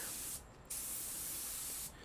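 Lacquer spray hisses steadily from a spray can or spray gun onto a guitar body in overlapping passes, a close, continuous hiss with two short pauses between bursts.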